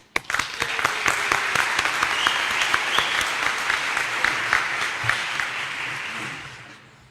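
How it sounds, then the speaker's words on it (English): Sustained applause from an audience at a career recruit class graduation ceremony, dense steady clapping that swells right away and tapers off toward the end, with no talking. "I'd like to invite you to another round of applause for these young men and women"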